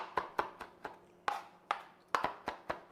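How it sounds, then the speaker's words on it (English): A knife chops fresh parsley for potato salad in a series of crisp board knocks, roughly three to four a second in short bursts, close and clear in a quiet room. "But for this one, I just like the parsley. Give it a really good chop."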